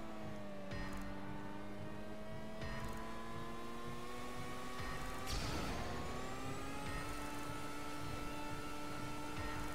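A car in a video game driving past the pit, its engine droning steadily with gliding pitch changes as it accelerates and shifts, loud and close with no talk.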